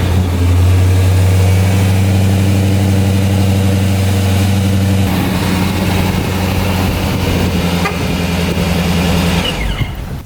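A car engine labelled a beast runs loud and close, a steady low idle drone for the first half, then shifting into revving with a rougher, higher roar that rises toward the end.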